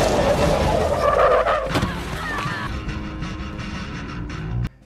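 A car skids and squeals its tires as it races toward a cliff edge in the 2009 Star Trek film, a loud engine roar with screeching rubber that cuts off abruptly at the end.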